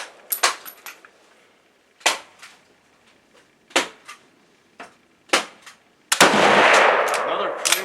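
A Lee Enfield No.1 Mk. III rifle with hang-fire ammunition gives a series of sharp, spaced clicks and knocks, then a loud, sustained blast near the end.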